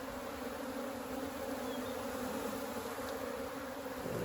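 Honeybees buzz in a steady, dense drone during a hive inspection, a continuous close swarm hum with no breaks and no voices.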